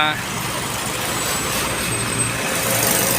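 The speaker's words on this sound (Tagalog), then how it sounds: "Last truck guys, palabas na pang-5." A truck drives out of a work site, its engine a steady heavy rumble with broad road noise, loud and close and continuous, while people talk nearby.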